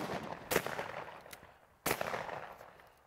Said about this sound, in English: Good shooting, Walt.